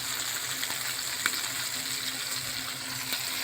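Heart and kidneys for Alexandrian-style liver sizzle steadily in a hot pan, a continuous close frying hiss with occasional light clicks of stirring and no voices.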